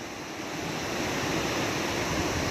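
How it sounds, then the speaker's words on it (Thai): Water rushes continuously at Tat Sadi waterfall in Xepon, a dense, steady roar with no pauses and no voices. "น้ำตกตาสรี"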